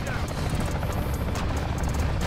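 Helicopter flight in Call of Duty Modern Warfare III gameplay, a steady loud rotor drone layered with distant gunfire and crashing combat noise, with people talking over it.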